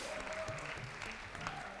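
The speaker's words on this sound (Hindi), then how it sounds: "बहुत सारी तालियां होनी चाहिए दोनों के लिए।" Studio audience clapping for both contestants on a game show, a steady, dense round of applause filling the short moment with no voices.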